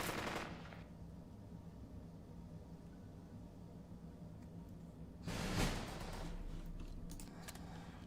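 Gunfire sounds in the video game Burden of Command: an opening burst of shots, then a quiet stretch of steady hiss before a second loud volley with a lingering rumble.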